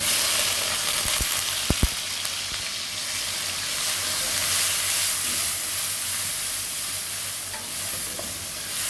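Chopped onions dropped into hot oil give a loud, dense hissing sizzle that holds steady throughout, with a few sharp clicks early on, close and without talking.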